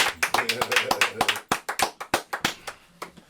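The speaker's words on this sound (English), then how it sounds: "We gonna applaud that." A small group claps at a hip-hop show, producing distinct, fairly rhythmic slaps close by that come in quick succession and then thin out, while voices talk over them.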